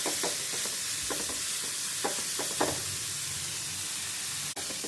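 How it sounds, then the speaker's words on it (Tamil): Finely chopped onions with salt sauté in oil in a pan, a continuous hissing sizzle broken by several short stirring scrapes, close and alone. "வெங்காயம் நல்லா கலர் மாறி வதங்கி வரட்டும்."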